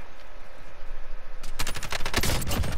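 Rapid automatic gunfire bursts out in Modern Warfare Warzone Zombie Royale, loud and close after a quieter stretch, with shots rattling continuously to the end.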